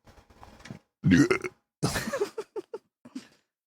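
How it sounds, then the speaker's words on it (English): A short, throaty belch bursts out loud and close, followed by a second rougher burp and a few brief guttural sounds. "like the belch at the end."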